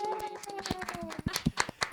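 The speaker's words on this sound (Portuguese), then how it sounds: "Uma salva de palmas, missionária Isabel." A small audience claps for a speaker being introduced on a women's podcast, scattered hand claps that grow louder and sharper toward the end, with a voice heard briefly underneath.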